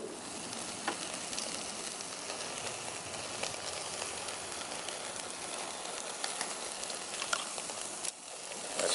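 A cowboy ribeye steak sizzling on a grill, a steady close hiss of searing with faint crackles and occasional pops, continuous and without talk.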